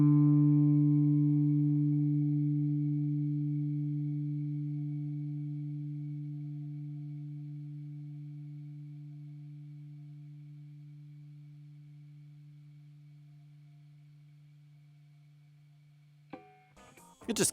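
A single note picked on a 2019 Gibson 125th Anniversary Les Paul Supreme guitar played with a clean tone rings out and sustains steadily for about sixteen seconds, slowly fading, before a brief handling noise at the end.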